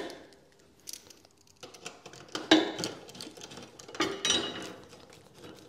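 A bolt is worked into the rail of a Royal Enfield Classic 350 with small metallic clicks, scrapes and ratcheting ticks, irregular and close, rising in a couple of busier bursts.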